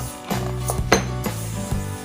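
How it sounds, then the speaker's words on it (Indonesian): Sago and purple sweet potato dough for klepon being mixed in a bowl, with a few close scraping clinks of a utensil against the dish at an uneven pace. "Ini kita adon dulu"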